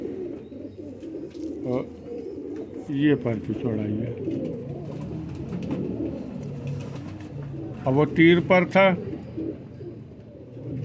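Kasuri or Sialkoti pigeons cooing in soft rolling bursts, close by, under someone talking, with louder cooing toward the end.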